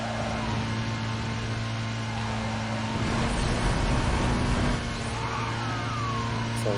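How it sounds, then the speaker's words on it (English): A BMW in Need for Speed Most Wanted cruises through the city at over 200 km/h, its engine a steady, loud drone with a faint swell in the middle and no breaks. "We have our nice BMW cruising through the city with 200 plus kilometers per hour."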